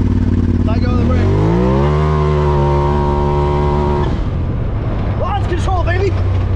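Polaris RZR side-by-side launching with launch control: a loud engine drone holds a steady raised pitch, then releases into a surging rush as the machine takes off, with voices shouting over the roar.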